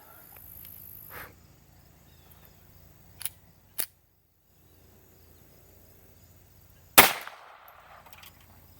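Sharp outdoor shots of .22 LR subsonic solid bullets, several distinct cracks with the loudest near the end, set against a quiet background of chirping insects and no talk.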